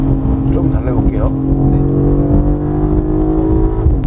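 A Mercedes CLE coupe engine revs in sport mode, its pitch climbing and steadying in a loud, close drone, with someone talking over it.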